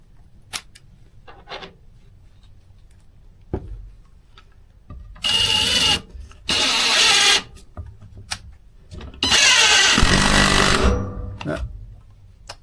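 A Craftsman V20 cordless brushless impact driver drives a fastener until it strips, with three loud bursts of rapid hammering impacts separated by quiet pauses, the last burst longest, plus scattered clicks and handling sounds in between.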